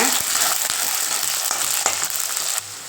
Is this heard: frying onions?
yes